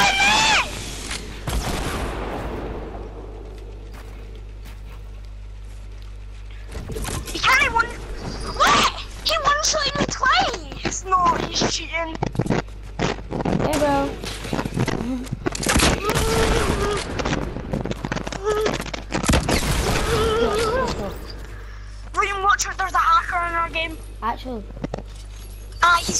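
Rapid bursts of gunfire from mini bullet weapons in Fortnite come in clustered volleys between quieter gaps, while players talk excitedly over the shooting.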